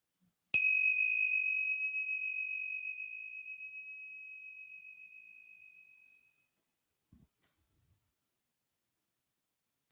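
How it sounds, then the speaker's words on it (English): A single meditation bell is struck once and rings clear and pure, its tone slowly fading over about six seconds into silence. "we'll start and end with the sound of the bell"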